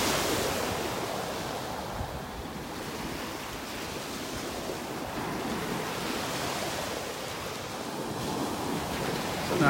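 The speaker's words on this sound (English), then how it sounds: "So nice listening to these waves." Ocean surf rolls onto a beach at Delnor-Wiggins Pass State Park, a steady broadband wash of breaking waves with light wind noise on the microphone, continuous and fairly close with no voices.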